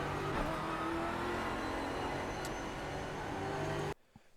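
A Ford Mustang GT4 race car in iRacing at Summit Point drones at steady throttle, a continuous engine whir and road rumble held at near-constant pitch, then cutting off abruptly near the end; no talk.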